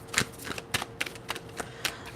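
A small Lenormand deck is shuffled by hand during a live card reading, giving close, crisp riffling bursts at a quick, uneven rhythm with no talk over them.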